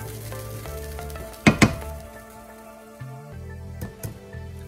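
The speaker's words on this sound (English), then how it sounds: "we're going to mix this around. You'll start to notice this will get nice and thick. And we're just going to let that simmer." A thickening grits-style mixture cooks in a pan with a soft frying sizzle underneath and a few sharp clanks and scrapes of a spoon against the pan, fairly close. No voices.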